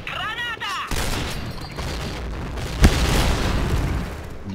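A grenade blast in Point Blank, a loud burst that erupts after a brief whistling sweep and rolls on as a dense, noisy roar, with a sharp crack near the end amid ongoing battle noise.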